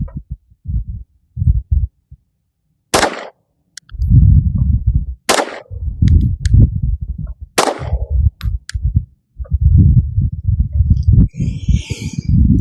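Three sharp, loud pistol shots ring out about two seconds apart while zeroing a red dot sight at 10 yards, with low rumbling handling noise and wind filling the gaps.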